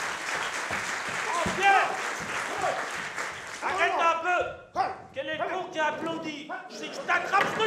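Audience applause at a cabaret show, broad clapping filling the first half, then fading as voices take over and talk continues over the remaining claps.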